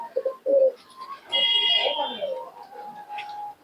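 Pigeons of Bangladeshi Napta and foreign Giribaj breeds make soft, low coos and brief calls close by, with bursts of other noises mixed in.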